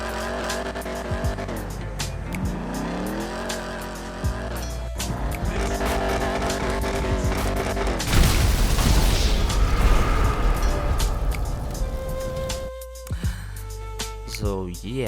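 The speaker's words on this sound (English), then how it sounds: "They were revving and revving just super loudly, nonstop." Cars rev loudly and nonstop at a car meet, with roaring engines, squealing tires and booming bursts layered into a continuous, close and dense din.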